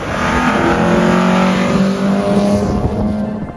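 A VW Mk1 Golf with a 1.4 engine and a 272 camshaft revs hard close by, its loud, rough engine note holding steady and rising slightly with a lumpy, raspy edge.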